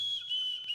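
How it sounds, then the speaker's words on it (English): A steady, high, airy whistle like air forced through a pipe, holding one sustained tone with a faint low hum underneath. "It's more of the whistle of a pipe."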